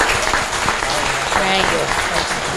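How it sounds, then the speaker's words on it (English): An audience at a business event claps in a dense, steady burst of applause, with voices mixed in underneath. "Let's give a round of applause for those 4 successful business owners."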